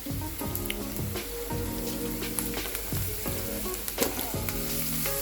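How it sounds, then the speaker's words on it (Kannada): Onions fry in a pan with a busy crackling sizzle and spattering pops, while clinking and tonal scraping from a utensil being stirred sounds close by. "ಈರುಳ್ಳಿ ಕೆಂಪಾಗೋ ಮಟ್ಟ ಹುರ್ಕೋಬೇಕು"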